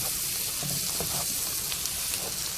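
Split peas rice and saltfish gravy in a pot give off a constant, close sizzling hiss as they are stirred, with soft scraping and bubbling textures and no talking.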